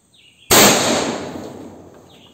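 A T4 rifle and Glock pistol fitted with a red dot sight are fired at a brick. One sharp, loud report cracks close by, then a reverberant tail fades over about two seconds.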